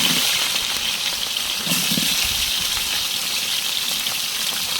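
Whole spices such as bay leaf and stone flower frying with chopped onion in oil for chicken biryani, a steady loud sizzle resembling rushing water, with a brief stir partway through and no talk.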